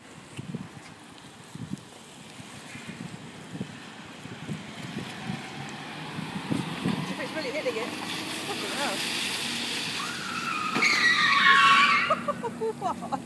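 A car on a driving course skids out of a spin, tyres screeching louder toward the end amid engine noise and wind, with people talking over the first half.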